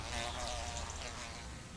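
Ivy bees buzzing among tree foliage in autumn, a steady insect hum that stays loud and continuous for the whole moment with no pauses.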